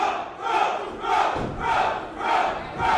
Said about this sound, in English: Crowd chanting for Elliot Qrow.